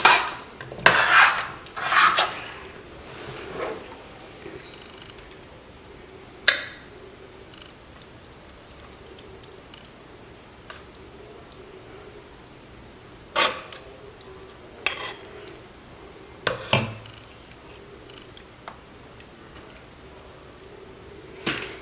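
Okra stew dished from a pot with metal utensils in a kitchen: scattered clinks and scrapes of spoon on pot, several sharp knocks spaced out over a quiet background hum.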